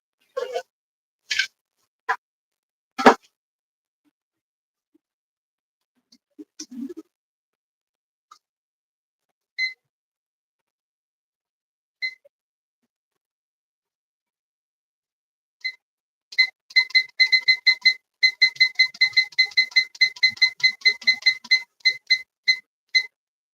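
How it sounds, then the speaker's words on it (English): A kitchen timer being set while baking gives a few isolated short beeps. Then a long, fast run of bright electronic beeps or clicks follows near the end, close and clear with no talk over it. "So we have our timer set for 30 minutes"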